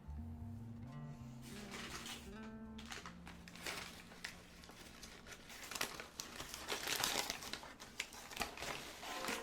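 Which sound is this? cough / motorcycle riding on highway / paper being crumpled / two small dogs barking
paper being crumpled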